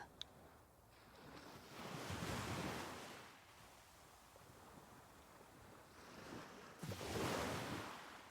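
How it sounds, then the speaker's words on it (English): Ocean waves rolling onto a beach and drawing back, two broad swells of surf rising and fading over a low steady wash, fairly faint and distant with no voices. "Just the sound of the waves coming in and drifting back out"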